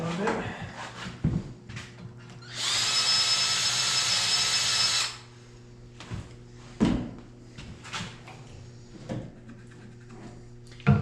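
A drill fitted with a pilot bit cleans out a threaded hole during a Gen 3 Hemi swap into a C4 Corvette with a ZF six-speed: a steady whirring burst of about two seconds, framed by clanks, tool handling and brief voices.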